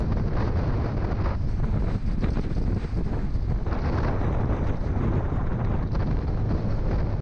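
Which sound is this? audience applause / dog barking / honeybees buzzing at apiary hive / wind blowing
wind blowing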